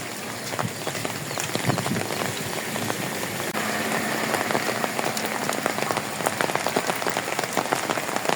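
Heavy rain pours down steadily in Bukawi, drumming densely on surfaces close by with a constant hiss, while a faint engine hum runs underneath.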